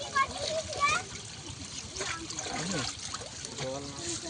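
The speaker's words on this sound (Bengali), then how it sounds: "এখান থেকে জল পড়ছে এই যে ওখান থেকে জল আসছে" Water trickles and splashes through a towel set to catch fish at a village ghuni fish trap, a light, steady dribble with occasional splatters, heard beneath near-constant nearby talking, including a voice.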